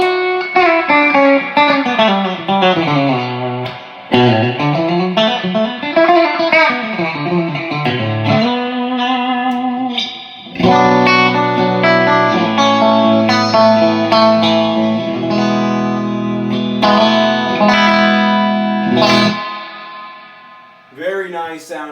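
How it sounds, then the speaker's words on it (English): Electric guitar through a Music Man HD-150 amp with its spring reverb turned to maximum plays chords and melodic runs drenched in splashy, lingering reverb, loud and close, with notes trailing off into echoing decay. "Very nice sounding spring reverb. The real deal."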